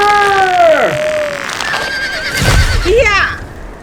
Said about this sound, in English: That gray horse has bolted.